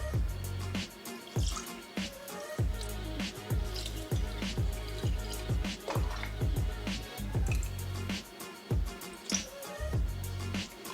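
Milk poured gradually into a bowl of crepe batter, with steady wet dripping and splashing close by in a repeating rhythm over a low hum.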